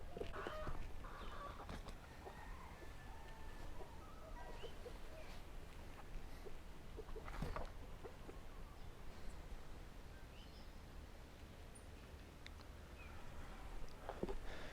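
Backyard coop chickens cluck and murmur softly at a distance, with scattered faint calls over a steady low outdoor background and some light rustling.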